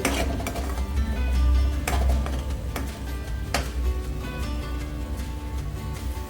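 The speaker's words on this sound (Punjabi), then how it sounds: "ਇੱਧਰ ਸਾਡੇ ਪਿਆਜ਼ ਭੁੱਜ ਰਹੇ ਨੇ" Onions frying in a kadai pan for kadai paneer, with steady clinks and scrapes of a utensil against the metal pan over a low, continuous frying noise, no talking.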